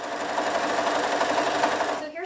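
A sewing machine stitches quilt block pieces together in a steady, fast mechanical whir with rapid needle clatter, close and continuous before stopping near the end.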